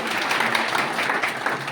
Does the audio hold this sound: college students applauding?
yes